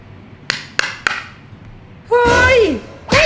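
Hammer tapping the center of a homemade cardboard cotton candy machine: three sharp, close knocks about a quarter second apart, followed by loud squeaky voices.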